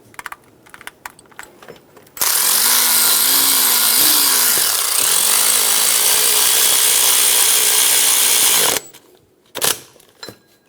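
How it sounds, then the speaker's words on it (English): Power tool whirring loudly for about six seconds while snugging the power steering pump bolts on a Toyota Tacoma, its pitch wavering slightly, with faint clicks and handling noises before and after. "Snug down the bolts."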